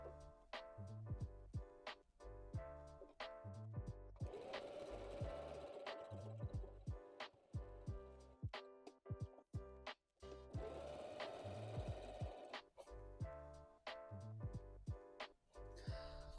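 A sewing machine runs straight seams on fabric in short rhythmic bursts of rapid needle clatter, stopping and restarting between passes, with a brief whirring stretch in the middle; moderately quiet and steady, with no talking.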